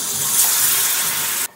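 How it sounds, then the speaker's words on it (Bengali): A bread chop coated in gram-flour batter drops into hot oil, giving a loud, steady close sizzle that holds for over a second and then cuts off abruptly. "ব্রেড চলে গেল একদম, দিয়ে দিচ্ছি তেলের মধ্যে।"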